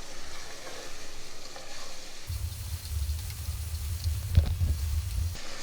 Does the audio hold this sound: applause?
no